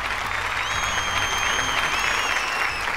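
A theatre audience applauds a stage dance act, with dense, steady clapping that fills the room and a few whistles and cheers rising over the crowd.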